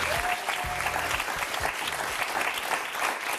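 A studio audience on the French game show Motus applauds to welcome host Thierry Beccaro, with dense, steady clapping throughout and faint musical tones running underneath.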